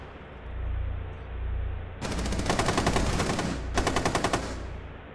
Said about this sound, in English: Both of them shot at me.